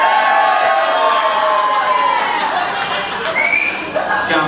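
Comedy club crowd at a stand-up show cheering, whooping and shouting loudly and continuously, a dense wall of voices with scattered yells rising above it.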